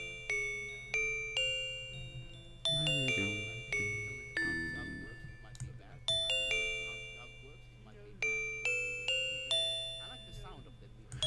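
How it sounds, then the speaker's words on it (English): A simple synthesized MIDI bell tone plays a repeating melodic phrase while dungeon-style music is being composed, bright clear notes struck in steady sequence, each ringing and decaying, with soft tones beneath. "I like the sound of the MIDI bell."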